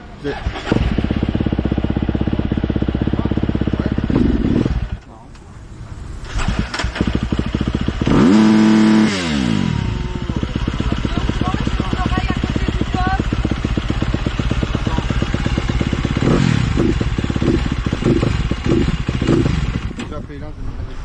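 A motocross motorcycle engine runs after a push start, a loud, raw mid-pitched drone with rev swells and a brief dip, heard close throughout with people talking over it.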